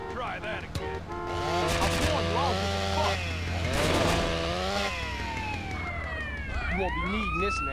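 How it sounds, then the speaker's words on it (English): Police sirens wail in GTA San Andreas, loud and rising and falling over a roaring engine and game noise, with the wailing sweeps growing more pronounced near the end. "Uh oh, cops."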